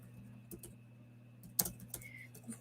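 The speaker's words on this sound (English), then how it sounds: "let me just type something in the chat" Computer keyboard typing, a few sparse, soft key taps spread unevenly over two and a half seconds, one slightly sharper click among them, faint and close over a steady low electrical hum, with no voices.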